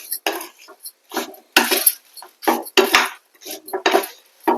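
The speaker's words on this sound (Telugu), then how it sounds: "ఇప్పుడు కొబ్బరికాయ కారం కూడా కాకరకాయ ముక్కలకు పట్టేటట్టు కలుపుకుందాం." Bitter gourd pieces being mixed with coconut chili powder in a pan, a series of short clattering scrapes and taps of a utensil against the pan in irregular bursts with brief pauses between.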